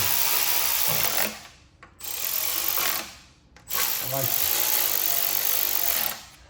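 A hand ratchet tightens a bolt on a Buick, giving bursts of rapid clicking broken by brief pauses, fairly close and steady, with no talk over it.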